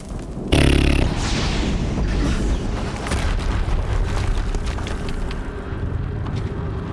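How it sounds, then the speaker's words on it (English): A sudden loud explosion in the video game Horizon Zero Dawn hits with a sharp boom and fades into a long rumbling roar that keeps going with crackling debris. "Another explosion."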